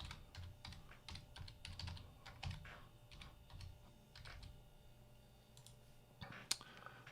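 Password being typed on a computer keyboard, a steady run of quick, close key clicks and taps with small pauses, one sharper clack near the end, over a quiet room hum.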